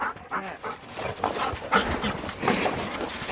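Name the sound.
dog panting and whimpering while shed hunting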